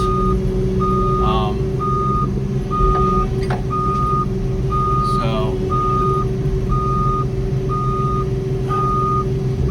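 Cat 302.7CR mini excavator running a hydraulic flail mulcher, a steady loud engine and hydraulic drone throughout, with a regular reversing beeper chirping about every second and brief whining squeals overhead.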